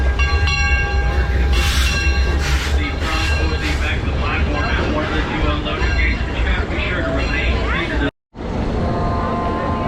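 A roller coaster train rushes past at Six Flags right after climbing the lift hill toward a near-vertical first drop, a loud sustained rumble and rattle of cars with a brief cut near the end, under crowd noise.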